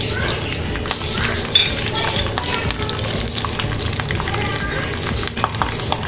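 Curry leaves crackle and sizzle in hot oil in a pan while tempering for drumstick gravy, a dense continuous frying hiss with occasional utensil clinks, under someone talking.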